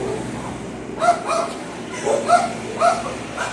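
Dogs in a humane society kennel room give several short barks and yips at intervals, moderately close over a steady room hum.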